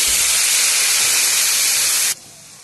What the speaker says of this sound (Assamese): দেখিছে মছলাখিনি পানীটো ফুলি আছে, উতলি আছে